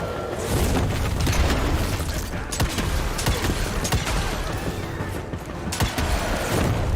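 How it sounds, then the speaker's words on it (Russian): Explosives going off repeatedly in the video game Evil West, a dense, loud wall of booming blasts and bursts that roll on nonstop with little letup. "Взрывчаткой прям сыпет и сыпет."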